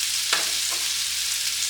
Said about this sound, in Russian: Все это жарится 3 минуты. Для картошки это еще очень мало, а для осьминога как раз чтобы перевернуть.